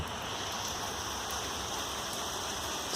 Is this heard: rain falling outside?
yes